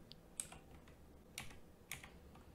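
A few scattered key presses on a computer keyboard, faint soft clicks spaced unevenly over a quiet background with no voices.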